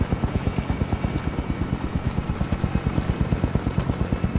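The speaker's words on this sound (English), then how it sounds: "Yeah, that could be the chopper." A helicopter thuds overhead with a loud, fast, even rotor chop that holds steady and close throughout, with no talk over it.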